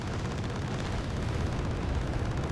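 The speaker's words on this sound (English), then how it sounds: "So one Mi-25 goes down." In Wargame: Red Dragon, an Mi-25 helicopter is shot down amid a dense, continuous wash of rumbling explosions and gunfire, steady and loud throughout with no clear single blast standing out.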